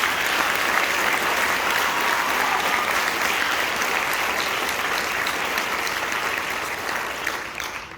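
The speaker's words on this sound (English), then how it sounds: "So a big round of applause for Ryan Elber." Audience at a high school end-of-year concert band performance applauds a band member: dense, even clapping that holds steady throughout and starts to thin toward the end.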